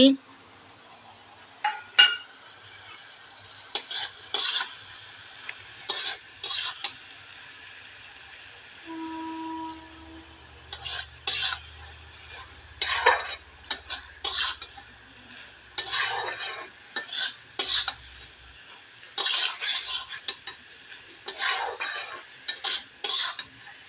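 Black and white mustard with green chili paste going into a pan, heard as scattered scrapes and clinks of a utensil against the pan in irregular bursts over a faint sizzle, with a short tonal beep midway.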